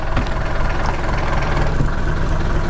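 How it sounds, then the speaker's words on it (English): A Mercedes OM602 diesel engine idles loudly and close by, its dense knocking clatter mixed with a steady gearbox rattle, running continuously without any talk. "So here's what it sounds like with the gearbox rattle."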